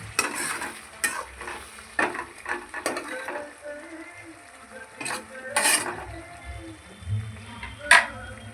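Masala stirred and fried in oil in a pan, with spoon scrapes and clinks at irregular intervals over a faint, steady sizzle, close by and moderately loud, a voice speaking now and then.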